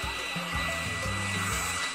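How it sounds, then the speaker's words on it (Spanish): A hair dryer blows steadily and close, with a whooshing airflow roar. A low motor hum shifts in pitch a few times as it runs. "Necesitará un secador de pelo."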